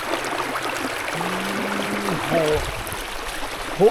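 A stream flows with a steady rushing wash of water in the countryside of rural Laos during the rainy season. It sounds close and constant, with faint other noises over it.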